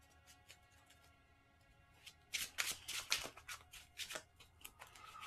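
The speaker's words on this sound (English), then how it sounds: "Again, shuffle, and then we'll draw her starting hand." Arkham Horror card game deck being shuffled at a table: a quiet riffle of flicking cards builds into a busier burst of rapid, crisp card slaps and clicks, fairly close and without talk.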